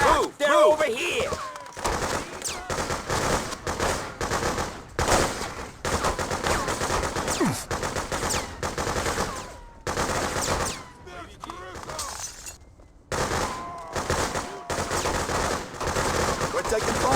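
Sustained machine gun fire in the video game Freedom Fighters, set in a New York hotel: loud automatic bursts rattle almost continuously for the whole stretch, with a few brief gaps, mixed with shouting game voices.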